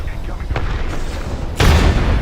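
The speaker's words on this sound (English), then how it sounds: "Incoming grenade." A grenade explodes in a college football video game's dynasty mode, heard as a sudden broadband blast late in the clip that swells loud over an earlier softer thump and a steady rumbling background.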